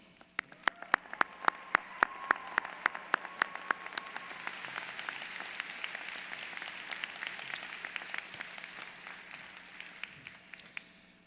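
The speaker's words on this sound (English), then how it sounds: "An applause for all of you." A graduation ceremony audience applauds, starting with a few sharp, distinct claps that quickly swell into a sustained wash of many hands clapping in a large hall, then taper slightly.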